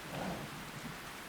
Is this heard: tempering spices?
no